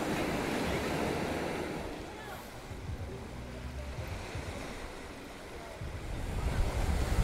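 Sea waves wash onto a beach with rocks at Puerto del Carmen, Lanzarote, a steady broadband rush that swells and eases, with gusts of wind across the microphone and no talking.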